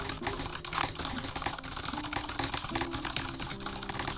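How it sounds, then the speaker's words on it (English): Fast typing on a tactile mechanical keyboard with RGB lighting, a dense, rapid clatter of close key presses and clicks running steadily through the whole stretch, with no talking. "let's do a typing test and see how that goes."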